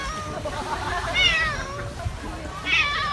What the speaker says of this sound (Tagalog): Uy, may pusa.